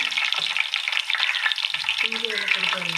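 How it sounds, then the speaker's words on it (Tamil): Food fries in hot oil with a loud, close, continuous crackling sizzle that holds steady throughout. "இப்போ இது எண்ணெய் சூடாகிடுச்சுது. நல்லா பொரியுதா?"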